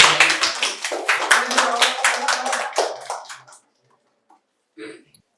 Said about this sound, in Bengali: জোরে হাততালি আরেকবার।